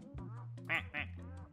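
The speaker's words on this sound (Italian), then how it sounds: "Questa fa quack quack." Cartoonish duck quacking in a video game, a few short nasal quacks in quick succession, soft and close, with no voice over them.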